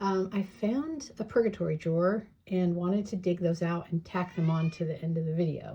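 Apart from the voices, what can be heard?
cat meowing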